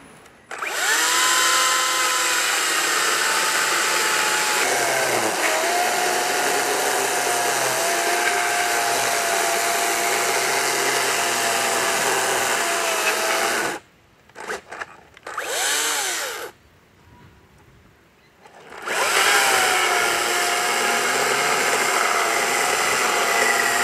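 A Makita battery-powered tool runs loudly and close with a steady high whine, cuts out briefly in a few short stops and starts, then revs back up to full speed.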